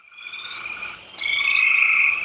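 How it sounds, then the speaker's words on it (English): Spring peepers and toads call together, a bright steady chorus of high peeping trills that swells louder partway through, with no voices. "Those are spring peepers and toads."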